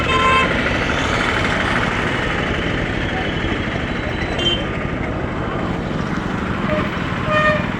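Dense street traffic near the market in Anantapur district, Andhra Pradesh, keeps up a steady roar of engines with vehicle horns tooting now and then, loud and close, while voices murmur in the crowd.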